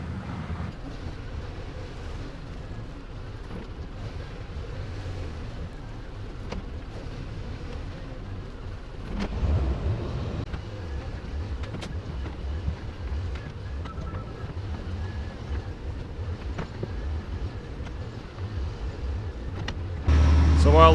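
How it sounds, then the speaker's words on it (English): A dump truck's engine rumbles continuously at a muddy pond excavation site as the loaded truck struggles to move off, a low steady drone with brief clanks and a louder surge near the end. "The dump truck keeps getting stuck as it tries to leave with a full load to dump."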